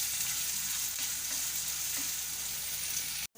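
A large onion sizzles and fries in a pan, a steady, close hiss of hot oil running evenly throughout before cutting off abruptly near the end.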